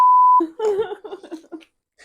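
A single short, steady electronic beep sounds at the start, then cuts off as someone begins talking nearby.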